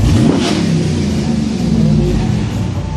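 Hemi V8 of a black Dodge Ram Rumble Bee pickup revving loudly and close, a deep rumbling engine swelling and easing over a few seconds with a faint voice in the background.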